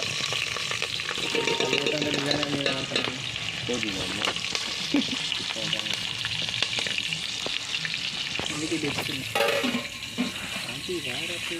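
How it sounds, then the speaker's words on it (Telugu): Green chilies fry in an oily pan with a loud, continuous sizzle and crackle, stirred now and then, while people talk over it throughout. "పచ్చిమిర్చి వేస్తున్నాను"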